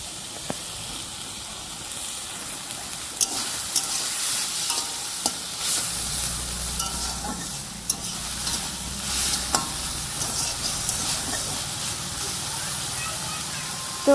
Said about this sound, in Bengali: এদিকে রান্না বসিয়ে দিয়েছে ঢেঁকি শাক ভাজা।